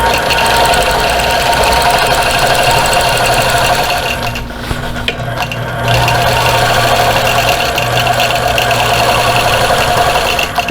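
Loud, continuous hum of a longarm sewing machine quilting a stitch-in-the-ditch line on a tessellating star quilt, running steadily with a brief dip partway through, no speech.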